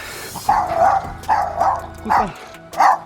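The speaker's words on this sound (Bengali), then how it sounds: "কুত্তা বক বক বক বক করতেছে আমার দেখে" A dog barks in four separate loud bursts of a few yips each, close by, spaced about a second apart on a Sunday walk outdoors.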